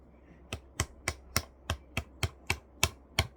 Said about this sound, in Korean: 망치까지 동원해서 이짓거리 하고 있는 거 보니까